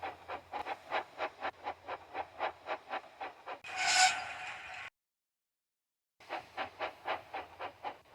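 A small HO/OO model train clatters along the track in a steady rhythmic click-clack, pausing briefly with a short hiss before the rhythm resumes after a moment of silence.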